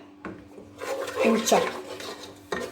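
A spoon stirs the nkwobi mixture in a pot, giving close clinks and scraping rubs, a few sharp knocks against the pot and a rising scrape in the middle.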